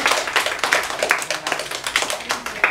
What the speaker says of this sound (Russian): аплодисменты нашей Гаечке